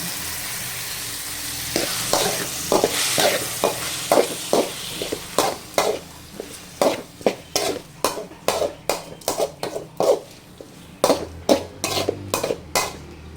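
Four tomatoes frying in a pan for tomato rice, with a steady close sizzle under a run of sharp, rhythmic scrapes and clinks as a spoon stirs against the metal, growing more regular toward the end; no talking.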